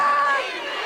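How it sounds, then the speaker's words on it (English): Crowd at a women's Legends Football League game in Los Angeles, a short burst of voices rising together in a loud cheer, close and dense. "Now the LA crowd coming to life."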